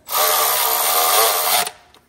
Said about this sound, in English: now having power tools makes life a lot easier